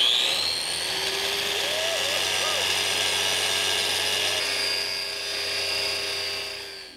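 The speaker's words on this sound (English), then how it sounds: "Do some grinding on this metal." A Bosch 15-amp 9-inch pivot handle grinder works on metal, a steady high-pitched whine holding throughout at close range with a faint tonal shift midway, no talk over it.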